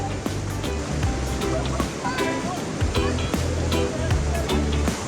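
Mountain river water rushes and churns near Paradise Falls, a loud continuous roar close by, with voices and scattered knocks and splashes over it.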